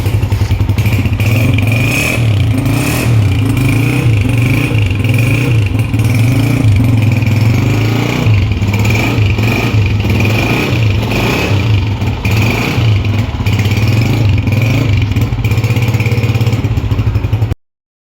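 A Honda motorcycle engine starts and revs steadily up close, a loud continuous rumble with mechanical clatter that holds for about seventeen seconds and then cuts off abruptly.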